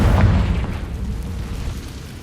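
A heavy, booming blast from the Confringo explosion spell in a Harry Potter game, a loud low rumble that starts strong and slowly decays over a couple of seconds.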